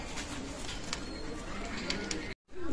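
Pakistani Teddy pigeons, a running pair of Oman bloodline, coo softly through a steady murmur of background noise, with low throaty calls repeating before a brief cutout near the end.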